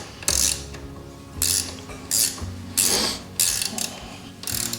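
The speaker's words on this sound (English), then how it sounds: "we're gonna start with the 17 mil wrench, just to loosen everything off on the tire" Close ratcheting from a 17 mm wrench loosening the wheel hardware on a dirt bike tire, heard as six distinct bursts of rapid metallic clicks separated by short pauses, with no talk.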